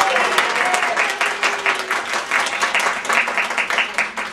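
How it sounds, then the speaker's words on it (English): A small crowd at a sales meeting applauds steadily, a dense patter of clapping at moderate loudness that gradually thins toward the end. "everybody give a round of applause for Debbie Gold."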